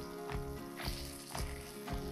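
Sesame-crusted seared tuna sizzles loudly in a hot pan, a constant close frying hiss broken by several sharp bursts at regular intervals as the fish is turned.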